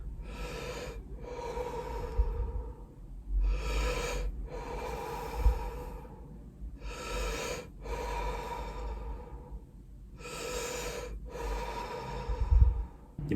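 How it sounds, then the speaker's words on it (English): Deep, connected mouth breathing with a relaxed jaw, paced as a conscious breathwork exercise: about five long, audible cycles, each a rushing inhale flowing straight into an exhale, close and steady with no talking. "the breath we're going to be using is a variation on the conscious connected breath"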